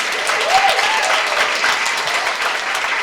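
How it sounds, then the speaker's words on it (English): Sustained applause from an audience honouring a panel at a women-in-publishing and media event, dense and steady throughout at a fairly close, loud level. "Let's give a final huge round of applause to our incredible panel."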